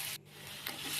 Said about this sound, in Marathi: हा कसा भाजतोय कांदा, छान असा भाजून घ्यायचा.